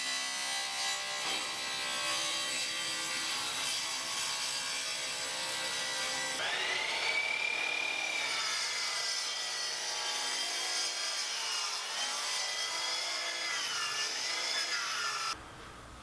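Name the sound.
cutting and sanding cherry wood desk top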